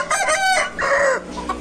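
Chickens cluck and squawk loudly at close range in agitated, overlapping calls as a rooster attacks a hen, with no talking.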